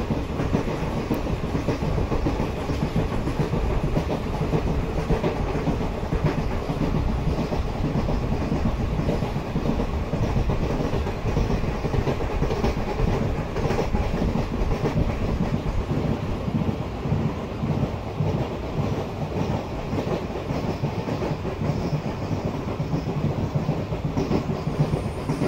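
A train runs steadily on rails in the Indian Train Simulator game, on a winter journey from Jammu Tawi to Pathankot, with a continuous loud rumble and clickety-clack that carries on unbroken throughout.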